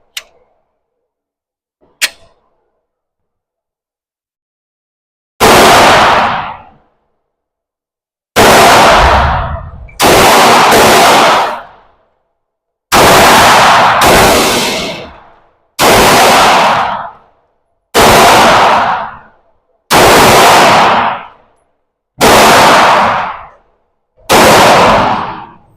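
Nine loud, sharp pistol shots from a 9mm Glock 19X at close range, spaced a few seconds apart in an irregular rhythm, each with a quick ringing decay, preceded by faint clicks of handling, no talk.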